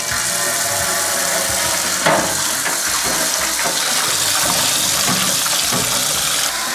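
Tap water runs continuously and loudly while a new non-stick frying pan is washed, a steady broadband rush with occasional splashes.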